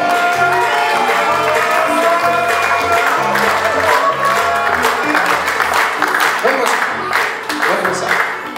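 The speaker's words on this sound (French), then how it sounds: "Un tonnerre d'applaudissements," A cabaret audience claps and cheers in a hall while a voice speaks over a loudspeaker, the applause swelling toward the end.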